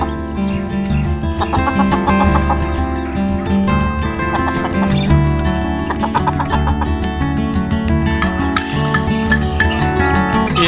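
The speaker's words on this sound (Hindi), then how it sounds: "ये हमारा मुर्गा जो तंग कर रहा है इसे" Chickens and a rooster cluck around a pet enclosure being fed millet, busy overlapping fowl calls over dense background noise, close and fairly loud.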